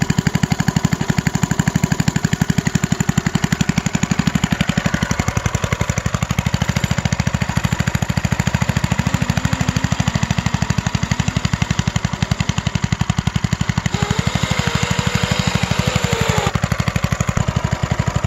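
A small engine on a homemade wooden RC car runs continuously with a rapid, buzzing putter, holding a fairly steady, loud pace throughout with no voices.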